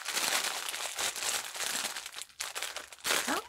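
Plastic packaging from an online-ordered Easter decor haul crinkles and rustles steadily as it is opened by hand, close and loud, with no talking.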